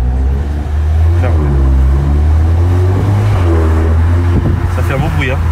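A Seat Leon Cupra with a 1.8-litre 240 bhp engine in sport mode revs and accelerates loudly from inside the car, the engine note climbing in pitch, while people talk over it.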